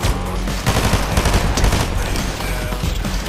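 Gunfire in Fortnite, loud rapid bursts of automatic shots overlapping in a dense, continuous barrage close up.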